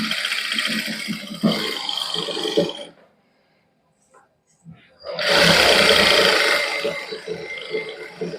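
A sewing machine stitches lace onto fabric for a palazzo design in a boutique, running in two long loud bursts separated by a near-silent pause, close up.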